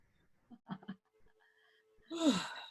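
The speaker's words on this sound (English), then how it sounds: "I got another yawn for you coming through." A yawn during a guided meditation session: soft breathy sounds, then a drawn-out, rising and falling yawning exhale near the end, close and fairly quiet.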